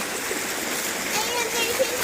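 Water in a stream flowing and splashing steadily in a continuous close rush, with someone speaking faintly beneath the noise.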